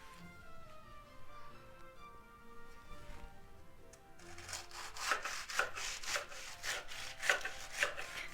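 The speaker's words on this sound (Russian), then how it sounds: "Видите, этот нож как пила, он просто идеально равняет торт." A serrated knife saws back and forth in quick, rhythmic rasping strokes, trimming the edge of a Napoleon cake, close and fairly quiet, after a few seconds of faint tonal background.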